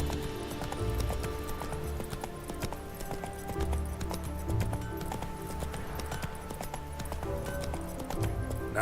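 Horse hooves galloping in the video game The Witcher 3: Wild Hunt, a fast continuous clip-clop rhythm beneath layered game music and ambience, fairly prominent but blended with the soundtrack.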